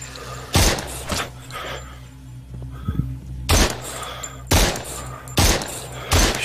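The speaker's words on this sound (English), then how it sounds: "the AK's a good gun" AK rifle fire in the zombie shooter SURV1V3 cracks out in several loud, separate bursts spaced a second or two apart, over a low steady background hum.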